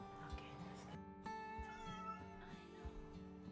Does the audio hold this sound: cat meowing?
yes